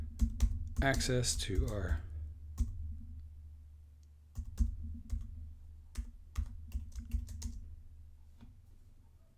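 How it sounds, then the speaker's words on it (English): Someone types a password on a Mac computer keyboard, a close run of quick, light key clicks in irregular bursts, following a brief stretch of speech at the start. "let's go ahead and put in our password again"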